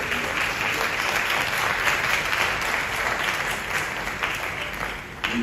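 An audience at a women's conference in Accra breaks into sustained applause, a dense steady clapping that fills the space for several seconds before easing slightly at the end.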